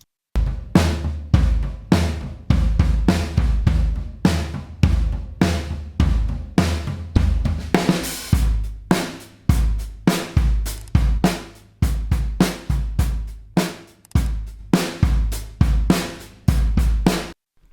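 A punchy drum kit groove with tight kicks and snares hitting in a steady rhythm, loud and dense with a compressed sound through a Slate Digital FG-Stress compressor, with occasional cymbal crashes.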